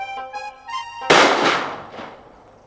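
A single sharp blast from a double-barrel gun fired in celebration bursts out after a musical tone, then rings and decays over a second or so with a faint second thump.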